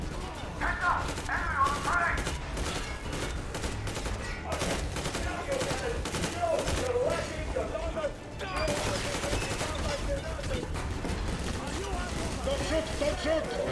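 Rapid gunfire bursts and scattered shots crackle through a tense Metro Exodus firefight in Moscow, loud and sustained over ambient game noise with a muffled voice in places.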